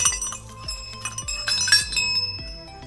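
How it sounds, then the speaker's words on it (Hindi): Metallic temple bells clinking and ringing repeatedly as a bell is tied up, bright overlapping chimes with a rhythmic knocking underneath, at a Golu Devta temple in Chitai, Almora, Uttarakhand. "तो हमने भी अपनी घंटी बांध दी"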